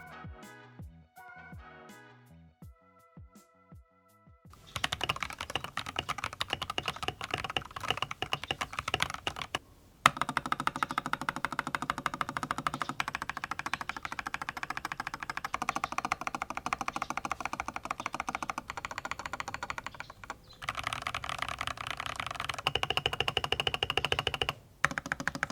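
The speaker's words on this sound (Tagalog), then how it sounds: "I'll be pairing this with the Ako keycaps so that you can hear a stock sound test of this keyboard." Typing on a Gamakay LK67 mechanical keyboard with stock switches and Ako keycaps: a dense, steady stream of close clacky keystrokes after a few seconds of quieter tapping, with brief pauses between bursts and no talking.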